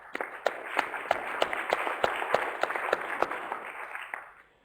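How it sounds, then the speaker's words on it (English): Applause from the audience at an APNIC member meeting session, clapping with a few sharp, distinct claps standing out from the crowd before it fades away near the close. "So I'd like to first give a round of applause to IDA."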